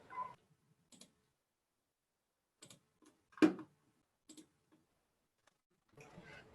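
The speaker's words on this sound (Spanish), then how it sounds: "escucho los clics del ratón" Computer mouse clicks come through an online call, sparse and scattered single clicks over near silence, with one slightly louder knock in the middle.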